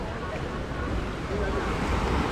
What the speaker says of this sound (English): we are now on the main Hikkaduwa beach here